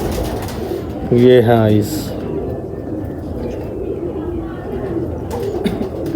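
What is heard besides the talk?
pigeon cooing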